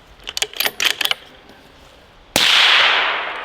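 A bolt-action rifle fires a single loud shot that cracks sharply and then rings out, after a run of clicking and rattling handling noises near the shooter.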